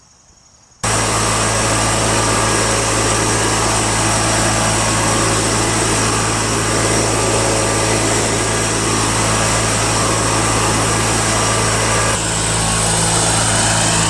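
A Toro 616Z zero-turn lawn mower engine starts up after a brief quiet moment and runs loud and steady at close range, a continuous buzzing drone with a slight shift in tone near the end and no talking.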